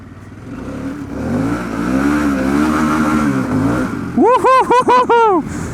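A Harley-Davidson Pan America motorcycle engine drones and climbs, then fires off several sharp, loud throttle blips in quick succession close by, with no talk over it.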